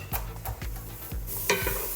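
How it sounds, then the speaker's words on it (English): A spoon stirs sofrito sizzling in a pan for homemade lasagna, giving a few soft scraping strokes over a steady close hiss of frying. "While that's cooking down, just gonna give it a little mix."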